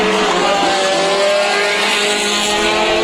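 Race cars roaring around the dirt oval at Bakersfield Speedway during a heat race, a dense, continuous engine drone with layered revving and faint tire noise, loud and steady throughout.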